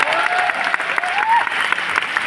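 Applause from a seated crowd at a speech program in Prayagraj for a man named Mukesh, a short, loud burst of clapping with a voice briefly sounding over it.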